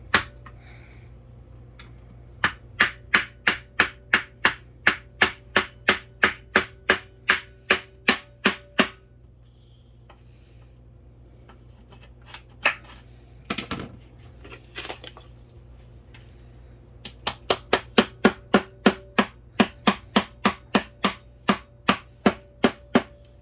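Sharp metallic hammer strikes on the side of a 2003 Honda Accord transmission case ring out in fast, steady bursts, pausing briefly before resuming in another rapid series, close and alone.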